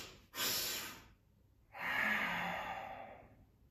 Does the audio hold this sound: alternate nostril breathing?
yes